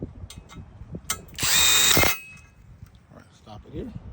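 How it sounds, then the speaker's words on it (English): A tool tightens the chain tensioner bolt on a 2017 Nissan Sentra engine, a short loud whirring burst of about half a second amid light clinks and handling noise, with quiet talk around it. "tighten down the chain tensioner bolt"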